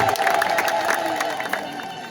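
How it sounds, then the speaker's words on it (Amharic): An Ethiopian church congregation ululates during a sermon, making a sustained, high, trilling crowd cry that holds steady for about two seconds. Scattered shouts and cheers rise over it before it fades slightly. "እልል በሉ፣ እልል በሉ።"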